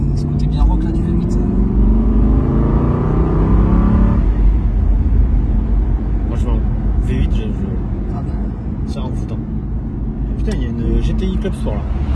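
Aston Martin V8 Roadster engine and exhaust rumbling loudly with a rising rev in the first few seconds, then a steady drone while driving, with people talking over it.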